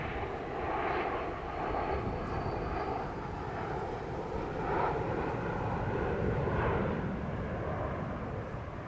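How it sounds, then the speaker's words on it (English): A continuous low roar of aircraft engines passing overhead, rising and falling gently in waves, fairly distant and without speech. "Airplanes."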